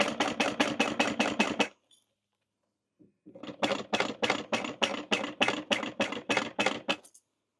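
Sewing machine stitching around a fabric bag in quick rhythmic bursts of needle strokes, a brief pause near the middle, then a longer steady run of stitches, close and clear with no talking.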